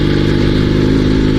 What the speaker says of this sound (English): I think this engine is still alive.